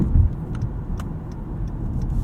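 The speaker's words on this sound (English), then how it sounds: "The accelerator, the throttle, and the engine and the transmission downshift a little bit lazily." A 2018 Acura TLX A-Spec cruises at night, its engine and transmission giving a steady low hum with road rumble and faint ticks inside the cabin, no speech.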